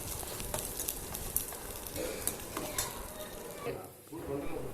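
Dried red chillies being stirred into a frying coconut rice mixture, a steady sizzle with scraping spoon strokes against the pan, close and continuous, briefly dipping near the end.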